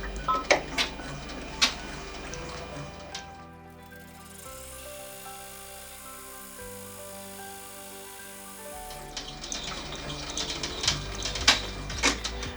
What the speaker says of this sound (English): we're going to embroider out our very first placement stitch